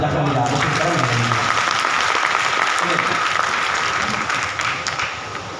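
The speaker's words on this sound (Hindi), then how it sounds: "सुनना चाहते हो तो ताली बजाकर मुझे आगे करें" Applause from an audience at a poetry reading, a dense, sustained round of clapping with a voice talking over the start, easing off near the end.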